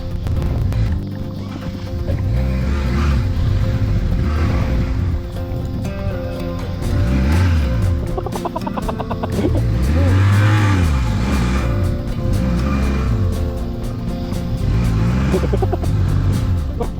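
BMW R80G/S, R1200GS and R1250GS motorcycles ride an adventure fire trail, engines loud and close, rising and falling in repeated revving surges as the bikes work over uneven ground.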